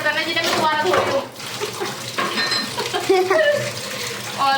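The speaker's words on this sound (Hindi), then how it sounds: "मैंने पहले सारे बर्तनों को पानी से वॉश कर लिया है।" Dishes washed under a running tap as a home cook rinses pots and utensils before scrubbing them with detergent: a steady gush of water with clinks and clatters of pots mixed in, close and fairly loud, without speech.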